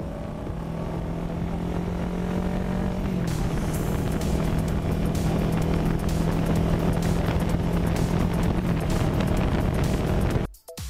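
A motorcycle is ridden with a steady, loud engine drone and rushing wind noise that holds constant throughout, then cuts off abruptly at the end.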